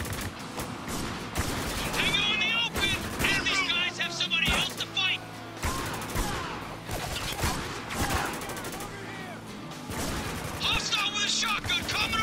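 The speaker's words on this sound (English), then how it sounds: "Open fire!" Gunfire in the Spec Ops: The Line video game, repeated sharp bursts of rapid shots and heavy impacts spread across the stretch, mixed with shouting voices and chaotic combat noise.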